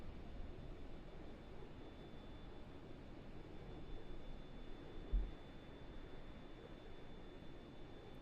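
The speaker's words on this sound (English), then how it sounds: "You can hear the engines." Jet engines of a Boeing 787-10 Dreamliner in Microsoft Flight Simulator 2020 during descent, a steady low broadband roar held evenly throughout, with one brief soft bump midway and no talking.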